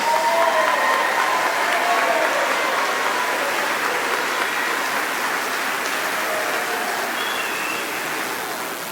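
An audience at a 2021 high school graduation ceremony applauds and cheers, a broad, continuous wash of clapping that holds steady and eases off slightly toward the end, with no speech over it.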